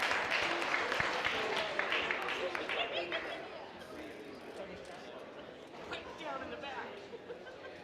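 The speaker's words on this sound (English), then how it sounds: "Everybody, clap her off." An audience at PorcFest X claps a speaker off the stage, a dense burst of applause that gradually thins and fades, mixed with crowd chatter and a few voices.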